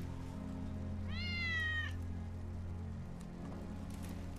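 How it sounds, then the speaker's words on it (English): Wedge's cat in Final Fantasy 7 gives a single drawn-out meow, close and clear over a low steady background hum. "It's Wedge's cat."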